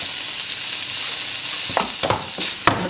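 Boneless chicken pieces frying in a pan, a steady close sizzle with a few short scraping stirs near the end, no voices.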